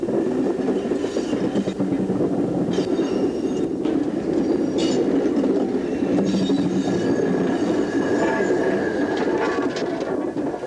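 A train passes, with a Mark I brake second coach on B4 bogies among the vehicles at an open day, giving a loud continuous rumble with wheel squeal and faint rail clicks, voices murmuring underneath.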